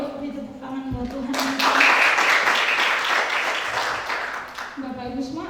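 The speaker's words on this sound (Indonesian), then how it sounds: "Yuk beri tepuk tangan buat Tuhan." A Sunday church congregation bursts into warm, full applause after a closing prayer, swelling for about three seconds and fading as a voice speaks before and after it.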